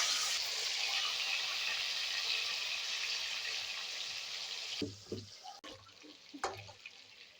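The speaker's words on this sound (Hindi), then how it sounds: "तेल हमारा गर्म हो चुका है। अब इसको हम एक एक करके तल लेते हैं।" Chillies and garlic fry in hot oil for a masala fish curry, giving a steady, loud sizzling hiss that thins out near the end, where a few light clatters of utensils break in.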